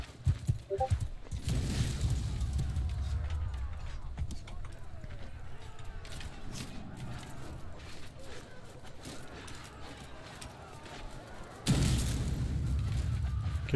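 Horse hooves clop steadily in the game Mount & Blade II: Bannerlord, with low rumbling ambience throughout and a louder burst near the end.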